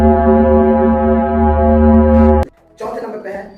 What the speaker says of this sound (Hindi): तीसरे नंबर पे है वीनस, जिसकी आवाज सुनकर आपके कान फटी के फटी रह जाएगी।